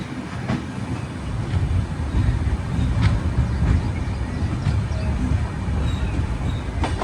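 Himsagar Express passenger train moving slowly onto a loop track: a continuous close rumble with rhythmic wheel clacks over rail joints and faint intermittent squeals, heard alone without talk.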